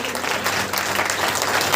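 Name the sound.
congregation clapping loudly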